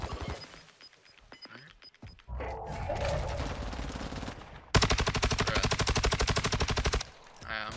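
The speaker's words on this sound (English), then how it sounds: "Somebody else is shooting at him now, too." Gunfire in Warzone: scattered shots early on, then a loud, steady automatic burst of rapid rounds lasting over two seconds, with someone speaking briefly between the volleys.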